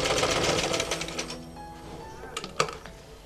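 Sewing machine stitching a half collar, also called a ben collar, on a dress with a back zip; a quick rattling run of needle strokes fades into softer, sparser stitching with a couple of sharp knocks near the end.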